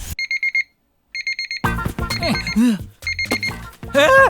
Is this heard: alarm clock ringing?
yes